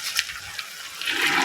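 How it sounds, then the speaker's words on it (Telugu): Water is poured into a steel pressure cooker of curry, a short splashing pour heard close up with a few small bursts and no voices. "కొంచెం వాటర్ వేస్తున్నాను అండి,"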